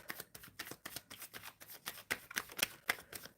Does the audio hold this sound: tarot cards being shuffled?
yes